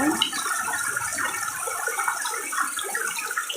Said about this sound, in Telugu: నిండిపోయినాయి లోపలికి వచ్చేస్తాయి నీళ్ళు